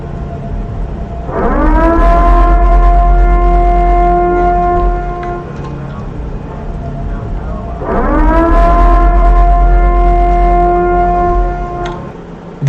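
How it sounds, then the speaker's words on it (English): A civil defense siren from the Purge movie rises into two long, loud wailing cycles with a steady low rumble underneath. "Yes, that's a siren from the Purge."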